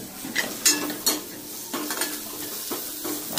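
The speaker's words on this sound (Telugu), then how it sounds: "ఎండుమిర్చి కూడా వేసేసాను. ఇవి వేగుతున్నాయి." Dried red chillies and spices frying in hot oil for a tempering, steady sizzle broken by repeated scraping stirs of a spoon against the pan, close and moderately loud.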